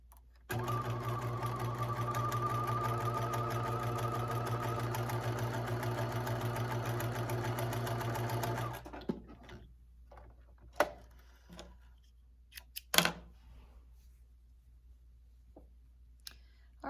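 A sewing machine ease stitching a fleece pullover sleeve, running steadily with a fast even whir for about eight seconds, then stopping, followed by scattered close clicks and handling taps.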